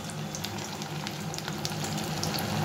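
Mung dal and dry red chillies frying in cooking oil in a pan, a steady close hiss and sizzle with light crackles that runs for the whole stretch without a break, with no voices.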